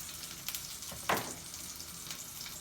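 Padrón peppers sizzle and fry in a pan, giving a steady crackling hiss with one louder burst of spitting near the middle, heard up close without any talk.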